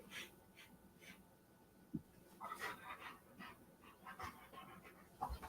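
A dog breathes in quick, rough pants and huffs while being held in a playful headlock, with scuffling and movement noises around it at close range.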